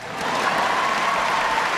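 A sizable audience at a gathering honoring Spanish sailors of Spain's Armada breaks into steady, dense applause that swells within the first moments and holds strong throughout.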